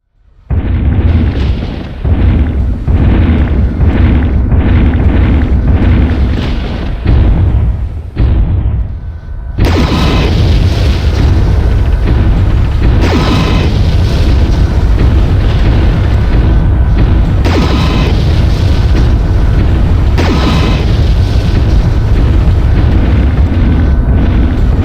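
Weapon fire and explosions in MechWarrior 3 destroy targets in a dense, loud run of deep booms and blasts, first in rapid separate bursts, then merging into a continuous heavy roar with repeated impacts.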